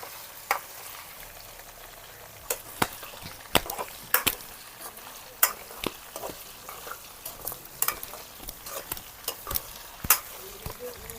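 Potato and brinjal pieces are stirred in a frying pan for a village-style masala curry, with repeated spatula scrapes and clacks over a soft, steady sizzle.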